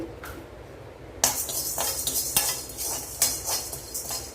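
Chana dal is dry-roasted in an empty iron kadai with no oil, heard after a quiet start as repeated metallic scrapes and rattling stirs, close and fairly loud.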